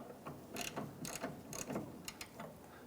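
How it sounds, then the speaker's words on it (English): A ratchet wrench clicks on an 18 mm flange nut on the rear strut of a 2003-2011 Honda Element, a few short bursts of quiet, close metallic ratcheting separated by brief pauses. "So the inside flange is going to be an 18 millimeter. I'm going to wrench on that."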